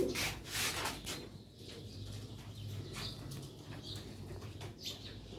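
A large green-spotted Sialkoti pigeon flaps its wings in repeated soft bursts, close by, over a steady low background hum with faint chirps and no talk.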